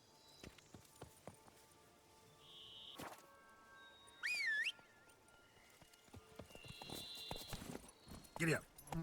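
Horse hooves clip-clop intermittently in The Witcher 3: Blood and Wine video game, mixed with whistle tones, a brief whinny and other game effects, with talk over parts of it.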